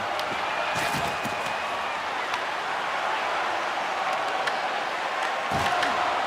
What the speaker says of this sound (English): the home team giving the fans something to cheer and get loud about. Listen to them.